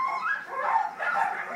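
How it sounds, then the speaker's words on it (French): Dogs at work yip and whine in a continuous overlapping chorus, moderately close, on a sunny day, with a voice partly mixed in. "Regardez les chiens faire leurs courses."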